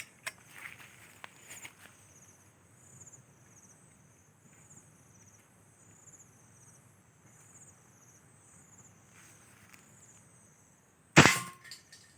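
An 8 mm PCP air rifle fires a single sharp, loud crack near the end, after a long stretch of quiet outdoor ambience with insects and a few faint clicks and handling noises.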